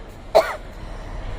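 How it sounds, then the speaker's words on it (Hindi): One sharp, close cough comes during neti nasal cleansing with water, then quiet breathing and room noise. "खांसी आ रही है तो आने दीजिए"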